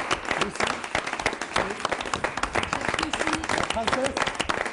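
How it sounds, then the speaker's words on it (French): An audience claps for Lucie at an All Star 2012 event, brisk sustained applause from a crowd, with cheering and voices layered over the clapping. "on applaudit Lucie aussi"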